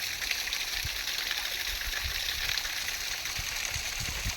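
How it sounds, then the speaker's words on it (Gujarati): A forest stream in the Ratanmahal woodland flows in a steady, continuous rush of water with a soft hiss and faint low gurgles. It runs evenly throughout with no talking. "આ ધરામાંથી પાણી ઝરણા સ્વરૂપે વહી અને દૂર સુધી જઈ રહ્યું છે"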